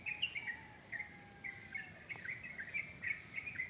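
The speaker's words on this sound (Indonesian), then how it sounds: "Suara burung di waktu pagi," Wild cerok-cokan birds in a rambutan tree sing at dawn, thin repeated chirps and short whistled phrases over a soft insect and cricket hum, fairly faint and a little distant.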